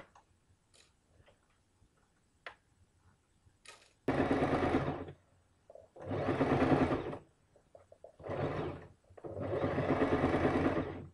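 A sewing machine stitches a kameez in four loud bursts of rapid running, separated by pauses filled with faint clicks and handling sounds.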